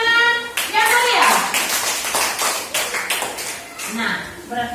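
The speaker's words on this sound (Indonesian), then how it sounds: "Tepuk tangan yang meriah." Schoolchildren in a classroom break into lively applause on cue, a dense burst of many small hands clapping fast and close, with a teacher's voice and children's voices mixed in at the start.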